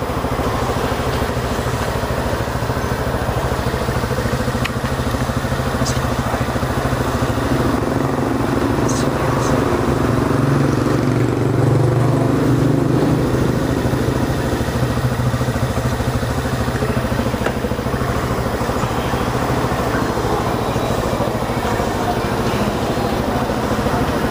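A brand-new Rusi Flash 150X motorcycle engine runs continuously at a steady rumble, loud and close, with slight clattering and no clear changes in pitch.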